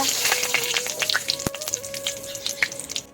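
A bay leaf frying in hot oil for a Bengali banana flower curry gives a close, continuous sizzle full of crackles and spits, with one sharp pop partway through.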